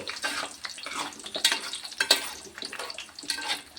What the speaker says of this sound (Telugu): ఆయిల్లో మంచిగా గోల్డెన్ బ్రౌన్ కలర్ వచ్చే వరకు